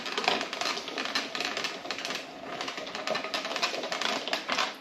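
A rotary cheese grater shredding a block of cheese, a steady fast rattling and scraping churn that continues for several seconds, close up and without talk.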